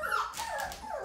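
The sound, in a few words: white golden retriever puppy whimpering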